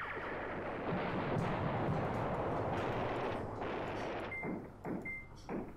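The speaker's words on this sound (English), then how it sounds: "it's being mortared on" Mortar bombardment in the wartime strategy game Command Ops 2 comes through as a fairly quiet, dense wash of rumbling blasts that thins into scattered separate thumps near the end.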